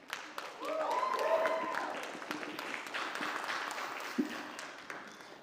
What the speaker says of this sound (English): let's give a round of applause for that one again